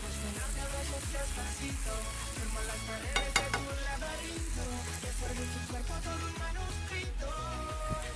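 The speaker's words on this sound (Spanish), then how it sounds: "Vamos cocinando la espinaca ahí con aceite de oliva y ajo." Spinach cooking in olive oil with garlic in a pan, a steady close sizzle with stirring scrapes throughout, no talking.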